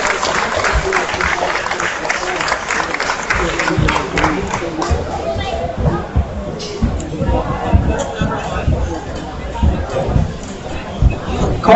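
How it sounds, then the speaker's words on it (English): Applause and cheering from a county fair rodeo crowd after an all-blue-ribbon market steer class, steady clapping with crowd hubbub for about twelve seconds, loud and close to the arena. "Let's congratulate him with a big round of applause"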